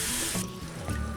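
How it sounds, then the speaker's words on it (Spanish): Tap water pours steadily into a pot of potatoes in a home kitchen, a close, constant splashing rush with no speech. "Cubrimos las patatas con agua,"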